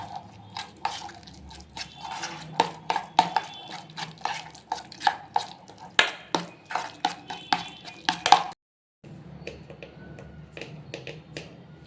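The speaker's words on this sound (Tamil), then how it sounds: "இதை மட்டும் அப்படியே மிக்ஸ் பண்ணிக்க வேண்டியதான்" A spoon stirs chilli flakes into a snack mixture, making a quick run of sharp, close clicks and taps. A brief silence follows, then faint, softer movement.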